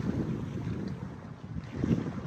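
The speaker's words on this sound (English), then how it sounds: "We are sailing on a nice broad reach." Broadband wind rush and water wash aboard a sailboat running on a broad reach across Lake Superior under full sails, a steady close roar with slight swells in level.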